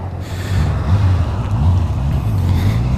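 A four-cylinder Honda CB650R motorcycle engine fires up and settles into a steady, low rumbling idle, loud and close, with no voices over it.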